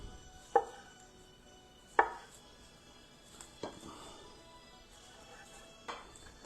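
Knife chopping a tomato into pieces on a board for a panzanella salad, four or five separate sharp thunks spaced a second or so apart, near and fairly quiet over faint room noise.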